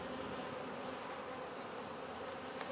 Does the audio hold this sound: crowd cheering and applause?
no